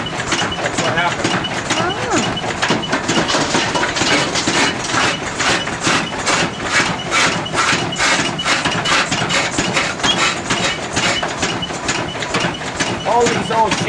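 A very old steam engine drives an old gold stamper at Pine Creek in the Northern Territory, Australia, making a loud, steady mechanical chugging and rhythmic pounding that continues without a break.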